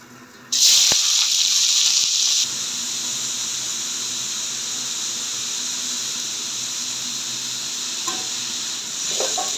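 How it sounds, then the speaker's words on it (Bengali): Cabbage frying with nigella seeds and green chillies in a pan, a loud sharp sizzle bursting up as it goes in, then settling into a steady hiss with a few stirring scrapes. "এখন আমি কালো জিরে আর কাঁচা লঙ্কা দিয়ে পাতাকপিটা ভাজি করে নিচ্ছি"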